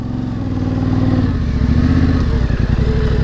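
Yamaha Tenere 700 adventure motorcycle ridden slowly on a Northern Wisconsin trail in first gear, its engine a close, steady low rumble with uneven throttle pulses throughout.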